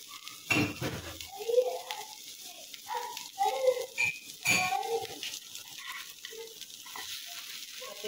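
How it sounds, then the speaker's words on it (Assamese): Food is stirred in a pot, with a few scattered spoon scrapes and light clinks against the metal, quiet and close, with soft pauses between strokes. "আৰু এইখিনি এনেকৈ অকমান লৰাই দিও"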